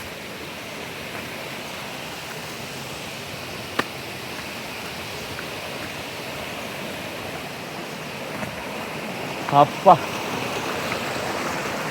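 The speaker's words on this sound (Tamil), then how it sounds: "ஃபைனலி ரீச்டு ஃபால்ஸ்ன்னு நினைக்கிறேன்" Steady broadband rush of the Kodaikanal waterfall heard from nearby, a constant wash of falling water with a brief voice and a few small knocks near the end.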